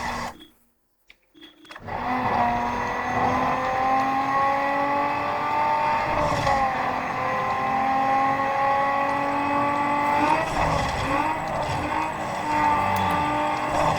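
A race car engine in Need for Speed Underground 2 drones loud and steady after about two seconds of near silence, its pitch holding high with slight rises and dips as the car speeds along, with no voices.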